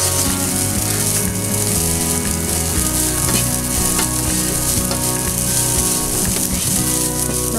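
Japanese fried rice (yakimeshi) with soy sauce, egg and ham sizzling steadily in a pan over medium flame, with occasional stirring and scraping clatter, loud and close with no talking.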